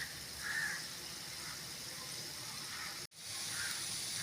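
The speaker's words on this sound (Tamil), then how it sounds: "குழம்புக்கு தேவையான அளவு தண்ணி ஊற்றிக்கலாங்க." Steady hiss of water pouring into a pot of tamarind curry with elephant foot yam, continuous and moderately close, with a brief break near the end before the flow resumes.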